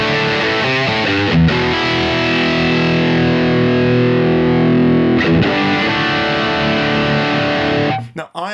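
Distorted electric guitar played through the Aurora DSP Laney Ironheart amp plugin, heavy sustained chords ringing loud and steady with brief choppy strums between them, alone without talking.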